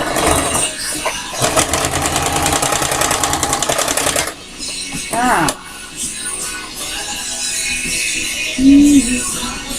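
Sewing machine stitching fabric in a rapid, steady mechanical whir for about three seconds, stopping, then short bursts and a softer run, with brief talk between.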